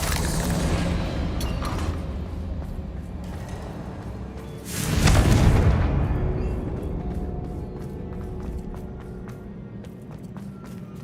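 A Confringo blasting spell detonates in Hogwarts Legacy, a single loud booming burst midway through that decays slowly, set against ongoing game ambience and faint footsteps.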